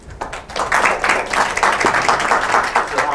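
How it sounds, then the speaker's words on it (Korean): An audience at a press conference in Korea breaks into sustained applause, a steady loud wash of many hands clapping that carries on for several seconds. "우리 다시 한번 박수 부탁드립니다."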